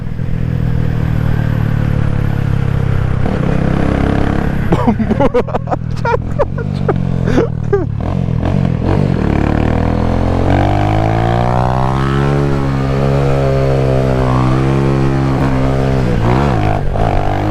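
A motorcycle engine runs while riding on a freshly repaired Jamaican bike, loud and close, with a sputtering, uneven stretch midway before the revs climb and fall in long smooth sweeps.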